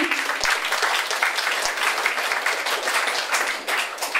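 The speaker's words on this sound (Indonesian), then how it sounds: "kita kasih tepuk tangan buat Mbak Gaby." Audience applause for Mbak Gaby, an OSIS student council candidate, at a high school election event, SMA Pangudi Luhur Giriwoyo; dense, steady clapping from a crowd filling the room throughout.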